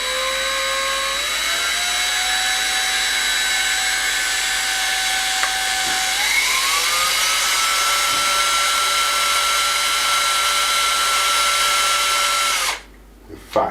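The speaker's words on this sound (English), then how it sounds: "I'm going to drill through ever so gently, because we don't want to nick any of these wires" An electric drill whines steadily for several seconds, its pitch stepping up and down as it bores through a wall, then stops abruptly.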